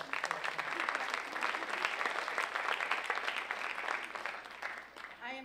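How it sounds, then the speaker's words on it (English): First-year convocation attendees clap for themselves in a sustained, dense round of applause that holds steady and then thins near the end, where a voice briefly starts up. "Give yourselves a round of applause for being present here tonight."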